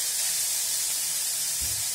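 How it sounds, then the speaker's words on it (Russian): Rice fries in a pan with a steady, soft sizzling hiss that runs evenly throughout, close and fairly quiet. "И начинаю его тоже жарить"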